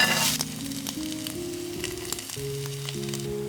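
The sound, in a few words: noodle cake frying in a pan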